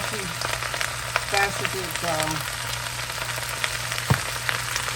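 Vegetables such as Brussels sprouts and potatoes stir frying in a pan, a steady dense sizzle with occasional clinks and scrapes as they are stirred, with a person talking over it.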